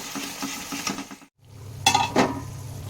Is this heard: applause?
no